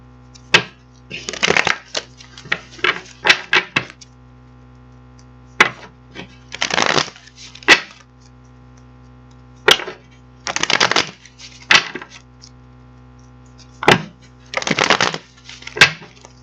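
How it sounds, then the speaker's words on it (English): Tarot cards being shuffled in several bursts of crisp riffling and flicking, close up, separated by short pauses, with a steady low hum underneath. "we're going to get these cards shuffled up for you"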